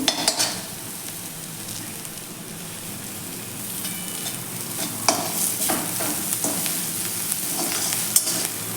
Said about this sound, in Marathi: मीठ व हे मसाले छान असे व्यवस्थित फ्राय करून घ्यायचे आहेत तेलावरती